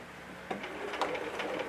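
A sewing machine stitching in the ditch along a fabric seam, giving a short burst of rapid mechanical whirring and clicking after a quiet start, close and moderately loud.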